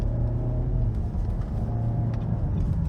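A Nissan Rogue (X-Trail) T32 cruises and pulls out to overtake, its engine and road rumble a steady, close, continuous drone heard from inside the cabin with no talking.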